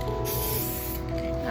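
A spray paint can hisses in a short continuous burst at close range, with faint background sound beneath it.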